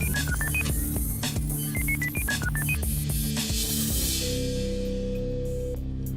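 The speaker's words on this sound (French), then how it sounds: "La régie fait le numéro de l'ancien notaire." A telephone number being dialed on a keypad, a quick run of distinct touch-tone beeps in two bursts, followed by a steady ringing tone on the line.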